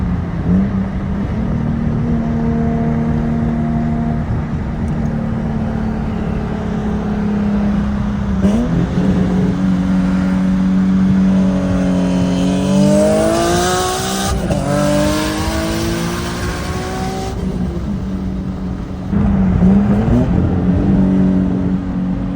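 A turbo Nissan 350Z and a Tesla Plaid race: the Z's engine climbs through repeated rising revs and gear changes, loud and close, with a brief tire squeal and whirring acceleration between shifts.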